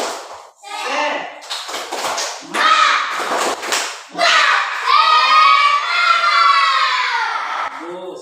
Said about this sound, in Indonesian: Coba tepuk semangat semuanya.